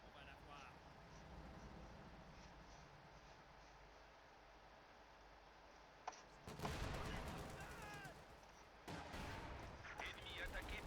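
Light artillery fires in the Company of Heroes 2 video game, starting as faint background rumble and then breaking into loud, sharp blasts and bursts of gunfire in the last few seconds.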